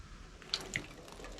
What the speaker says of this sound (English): It's obviously leaking from right there.